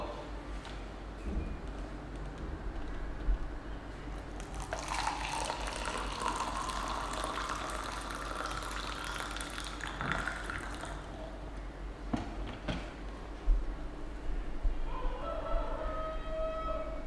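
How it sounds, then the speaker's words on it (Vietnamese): Boiling water is poured into a porcelain cup holding a peach tea bag, a steady trickling fill over low background hum, fairly faint and close. "Rót 170ml nước sôi vào cốc."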